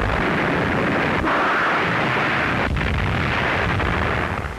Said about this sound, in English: much of the fighting confined to artillery duels and air bombardment